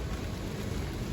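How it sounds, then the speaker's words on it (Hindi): Steady rain falling outdoors in sunshine, a dense continuous broadband hiss with low rumbling texture, fairly loud and close, with no voices over it. "ये हो रही है बारिश, और धूप भी निकल रही है और बारिश भी हो रही है।"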